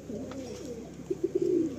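Close Chatiyal pigeons coo in a quick run of throaty pulses after a low warble, clear and unaccompanied by talk.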